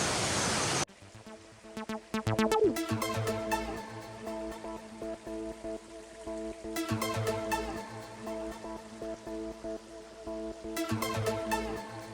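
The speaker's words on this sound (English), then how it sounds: "It's a nice sound of rain as well." Rain falls through ancient woodland at Padley Gorge in the Peak District, a steady soft hiss with scattered pattering drops continuing throughout, no voices present.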